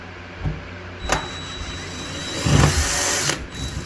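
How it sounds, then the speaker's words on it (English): Drill fitted with a masonry bit boring out the lock of a Mortal Kombat 4 arcade cabinet, heard as short grinding bursts around one, two and a half, and three and a half seconds over a steady background hum. "put a masonry bit here on it, and then we're going to drill it out"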